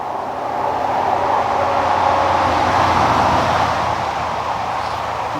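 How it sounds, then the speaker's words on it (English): Traffic from a nearby road heard from a wooded trail, a continuous broad roar of passing vehicles that swells gently and stays steady throughout. "Yes, I have to deal with traffic noise"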